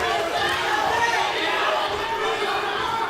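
Spectators at a boxing match between Nick Gonzalez and James King scream and cheer in a loud, continuous roar of many voices that holds steady for the whole stretch.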